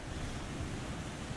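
Steady rushing river water in a survival video game, a continuous broadband wash like flowing current or surf, moderately loud and unbroken throughout with no voices.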